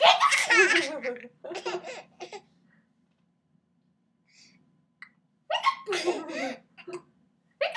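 A baby hiccups and laughs in short bursts close by, with an adult voice talking between the bouts and quiet gaps in between.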